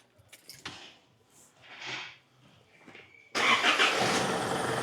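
A truck diesel engine, fresh from a glow plug replacement, begins with faint clicks and key sounds and a quiet whirring, then fires up abruptly into a loud, steady running rumble.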